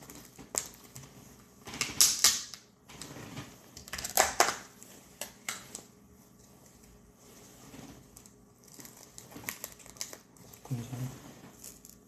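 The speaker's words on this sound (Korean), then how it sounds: "저는 약간 이런 비닐 있으면은 바닥부터 뜯는 타입이에요." A plastic wrapper on a packaged meal is torn open from the bottom, giving close crinkling and crackling bursts with quieter rustling between them.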